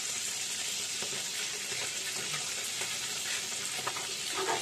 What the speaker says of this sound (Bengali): এক পাশ গোল্ডেন ব্রাউন করে ভাজা হলে একইভাবে অপর পিঠটাও ভেজে নিতে হবে।